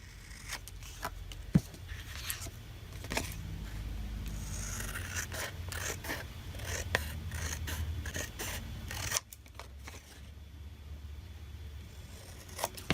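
Scissors snip and trim along the edges of paper journal tags in a steady run of close, quiet cuts with soft scraping between them. A brief lull comes before the cutting resumes.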